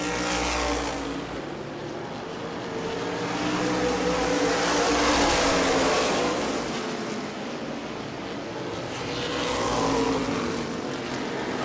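Florida Modified race cars roar around the New Smyrna track, their engine noise swelling and fading as the pack passes, with no talk over it.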